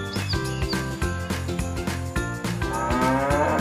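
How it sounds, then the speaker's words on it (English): A cow gives a deep, loud, drawn-out moo that repeats in a steady rhythm, each call rich and resonant, with a faint jingle in the background. "Cow."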